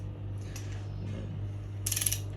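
A ratchet clicks in a brief burst of several quick pawl ticks near the end, over a steady low hum, while engine bolts are tightened to 20 foot-pounds during a forged 4AGTE engine assembly.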